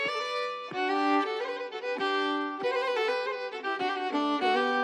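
A violin plays a run of separate sustained notes, each bowed with a clear attack, in a steady, bright melodic line heard alone.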